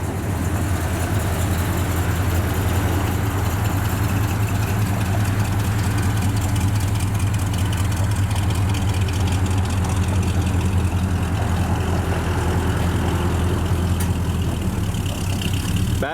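A 1972 GMC Suburban with a GM crate V8 and dual exhaust idles steadily, its deep, even rumble close and continuous, mellow rather than loud, with no talking over it.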